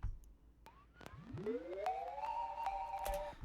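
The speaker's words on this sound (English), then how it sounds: "what you're hearing is this little pluck sound that comes in" A tonal hardstyle synth pluck sweeps upward in pitch and then levels off into a steady sustained note, with faint vinyl-like clicks scattered throughout.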